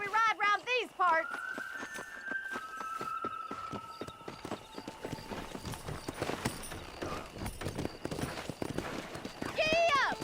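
A horse in Red Dead Redemption clip-clops along at a quickening pace, steady hoofbeats near and clear, with people talking over it and a whinny at the start and end.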